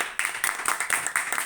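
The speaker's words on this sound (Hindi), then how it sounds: "बिट्टू जी के लिए एक बार जोरदार तालियां हो जाए।" An audience bursts into sustained applause at a training session, dense overlapping hand claps continuing steadily and fairly loud throughout, with no speech.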